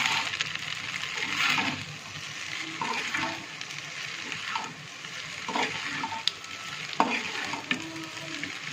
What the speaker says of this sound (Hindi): थोड़ी देर हम इसे तेज आंच पे भूनेंगे।